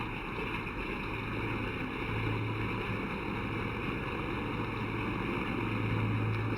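A huge video-game flying boat with six twin-cyclone radial engines takes off from its mooring across a bay, producing a loud, constant engine drone with a steady hum and no speech.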